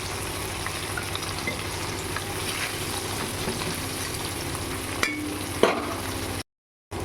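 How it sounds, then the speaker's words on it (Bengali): Cream paneer cubes fry in a pan with a steady, even sizzle that runs throughout, broken by a couple of sharp clinks near the end before a short gap of silence. "এই যে আমার পনিরগুলো ভাজা হয়ে গেছে।"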